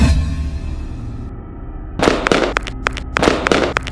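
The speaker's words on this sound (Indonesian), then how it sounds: "main petasan lagi di sini." Firecrackers set off by children pop in two sharp, crackling clusters of rapid bangs, loud and close, after a quieter opening stretch.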